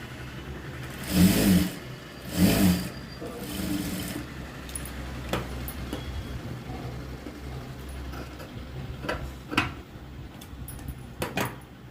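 A sewing machine stitches a straight seam on folded blouse fabric, running in three short, close bursts early on, then falling to quieter intermittent ticks and clicks.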